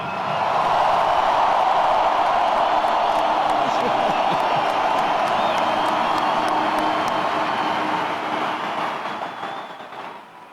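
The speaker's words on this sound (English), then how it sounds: "Can we please have a loud round of applause, ladies and gentlemen, for the great Robert Smith" A stadium crowd at the closing ceremony of the last game at the Metrodome roars in a sustained, loud wash of cheering and applause that holds steady, then slowly fades toward the end.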